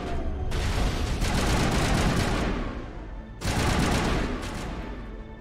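Sustained heavy gunfire from weapons in Mass Effect Legendary Edition, set in a fight on Noveria: two long, loud, dense bursts with a brief dip between them, and no voices over it.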